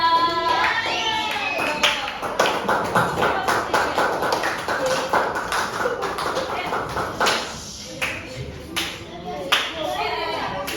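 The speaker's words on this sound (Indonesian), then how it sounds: "Oke, tepuk tangan buat kelompok 3" A classroom of pupils claps for a group, rhythmic rounds of hand clapping that start after a voice and continue with pauses, with talking mixed in near the end.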